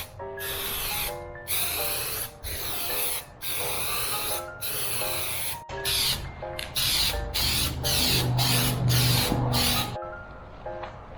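Spray adhesive hissing from a can onto a BMW E36 M3 headliner board, a dozen or so close, loud bursts of steady hiss with brief gaps between them.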